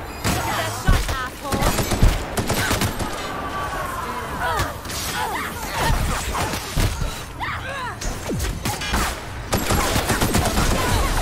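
Gunfire in The Outer Worlds on Tartarus, with repeated sharp shots and bursts ringing through dense combat noise while voices shout over the action.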